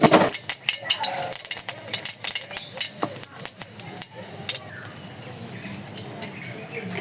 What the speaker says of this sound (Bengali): এই যে কড়াই এসে গেছে, এখানে যে জিরা দিয়ে দিলাম